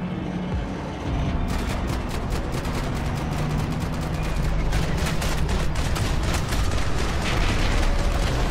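Rapid gunfire in Max Payne 3, a sustained burst of sharp automatic shots rattling over a loud, continuous rumble of battle noise.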